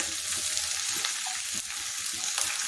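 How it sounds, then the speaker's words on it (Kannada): Mixed vegetables and greens with aloe vera fry in a pan over raised heat, a close, steady sizzle with soft stirring scrapes throughout. "ಎಲ್ಲ ಒಟ್ಟಿಗೆ ಒಂದು ತುತ್ತು ಹುರಿದ ಮೇಲೆ ಸೊಪ್ಪನ್ನು ಇದಕ್ಕೆ ಹಾಕ್ಕೊಂಡು ಹುರಿತೀನಲ್ಲ"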